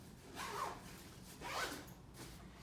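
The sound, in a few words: zipping up a travel cube shoe folder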